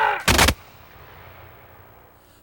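A single loud musket volley from historical reenactors cracks out at once on command, followed by a fading echo and a fainter sharp report at the very end.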